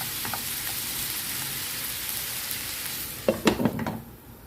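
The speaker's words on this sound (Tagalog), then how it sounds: "add natin ang ating frozen na giniling. Kaya igisa natin dyan." Frozen ground pork sautéing in a pan for adobong giniling, a steady close sizzle and hiss with a few brief louder crackles and stirring scrapes near the end.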